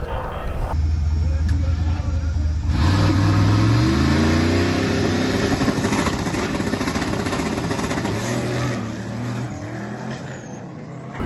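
A drag racing truck at a dragway accelerating hard down the strip, a loud engine roar climbing in pitch through several gear changes, then fading as it pulls away, with people talking in the crowd.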